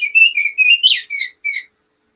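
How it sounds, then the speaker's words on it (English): An oriole gives a high-pitched whistled call of about seven clear, short, fluting notes in a quick sequence. The bird is close and clean against silence. "keep your ear out for the whistle of the orioles"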